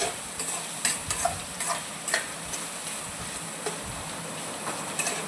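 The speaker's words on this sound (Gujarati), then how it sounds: "હવે સરસ આપણે એને તેલમાં ચડવા દેવાનું છે અને હલાવતા રહેવાનું છે" Onion and capsicum cook in oil for vegetable poha while being stirred, a soft steady sizzle with scattered light scrapes and taps of a spoon on the pan.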